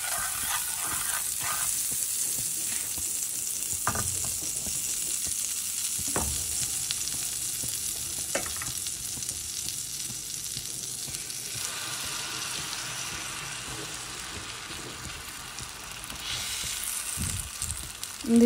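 Butter sizzling and frying steadily in a pan while making a quick breakfast, a continuous crackling hiss with occasional soft clinks of stirring, no voices.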